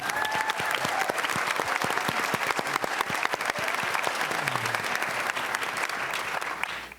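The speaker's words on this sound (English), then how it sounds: "let's have a round of applause for these two fine students" A community forum crowd in a high school applauds two students, sustained clapping from many hands with crisp nearby claps for about seven seconds, a low voice surfacing briefly near the end.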